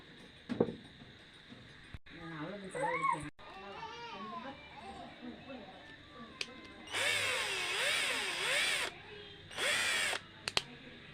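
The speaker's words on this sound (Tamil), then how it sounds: "இது ட்ரில்லிங் மிஷினு" A 12V lithium-battery cordless drill whirs in two short bursts, the second briefer, with people talking quietly between them.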